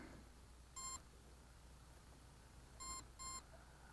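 The electronic speed controller on a Flite Test Simple Storch RC plane gives three short, faint, high beeps: a single beep, then a pause, then two beeps in quick succession over quiet background hiss.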